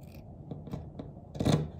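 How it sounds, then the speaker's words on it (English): Scissors cutting fabric to make fringe for a no-sew scarf: a few soft, close snips followed by a louder, longer scraping cut. "you're just going to cut up and meet your dot"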